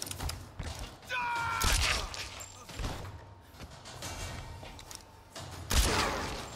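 Gunshots in Tomb Raider GOTY, several sharp, punchy reports separated by pauses amid mechanical clicks and game ambience, with a louder shot near the end.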